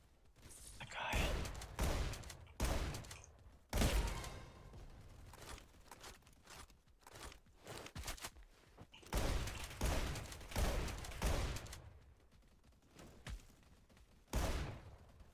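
FAMAS rifle fire in a video game comes in short, sharp bursts separated by pauses, fairly loud and near, with a few heavier thumps scattered across the stretch.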